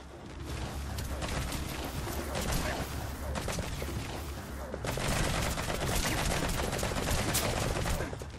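Heavy gunfire from soldiers in Metal Gear Solid 5: The Phantom Pain, with dense, continuous volleys of rifle and machine-gun fire that stay loud throughout.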